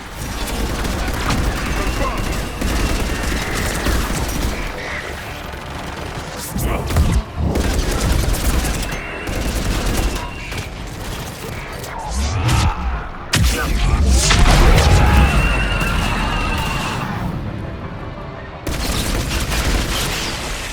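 Air-support missile strikes pound the battlefield on Thessia in Mass Effect 3, with loud sustained booms and crashing impacts rolling together under gunfire, punctuated by sharper blasts and with voices talking over the din.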